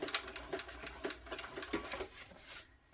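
A sewing machine stitches a seam on a sling crossbody bag, a fast rhythmic needle chatter close up, running steadily before slowing and stopping near the end.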